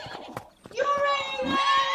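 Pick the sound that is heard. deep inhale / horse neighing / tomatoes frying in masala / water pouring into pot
horse neighing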